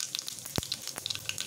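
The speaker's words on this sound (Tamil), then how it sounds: "எண்ணெய் காஞ்சிருச்சு, கடுகு போட்டாச்சு, அதுக்கடுத்து கொஞ்சோண்டு" Mustard seeds and cumin crackle in hot oil, a steady sizzle broken by sharp pops and a couple of brief louder bursts, close and alone with no voices.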